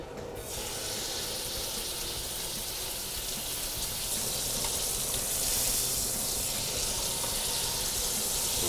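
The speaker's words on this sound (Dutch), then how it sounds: "Dus we gaan het hert nu bakken" Venison sizzles steadily in a very hot pan after a pinch of salt, an even hissing crackle that swells slightly louder partway through and carries on alone.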